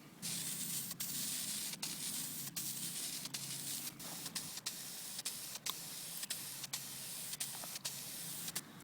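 Darker metallic gray trim paint sprayed from an aerosol can onto a sanded plastic grille of a Crown Victoria Police Interceptor, a close, steady hiss broken by repeated short pauses between passes, no talking.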